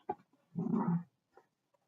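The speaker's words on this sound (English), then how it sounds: "That was my dog." A dog gives one short, low, whining grumble lasting about half a second, with a faint yip before and a small whimper after, close by in an otherwise quiet indoor setting.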